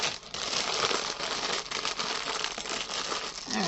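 Close, continuous crinkling of plastic packaging being handled, steady crackly rustling for a few seconds with no talk.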